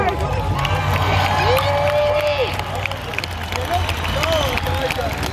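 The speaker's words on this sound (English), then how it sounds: "how about an incredible round of applause?" A crowd at a nighttime parade claps and cheers loudly with whoops and shouts, close and lively, while scattered voices talk amid the noise.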